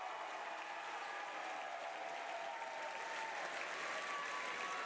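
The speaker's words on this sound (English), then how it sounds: "And McMaster now applauding the fans." A steady, faint wash of applause and crowd noise fills a volleyball arena at a men's university championship final between Queen's and McMaster, continuous and distant without a break.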